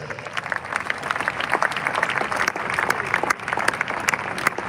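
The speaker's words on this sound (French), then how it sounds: "Pendant qu'il avance, on acclame pour le Seigneur." A congregation at a funeral service claps and cheers in praise, steady rapid applause from a large crowd with voices calling out over it, filling the room.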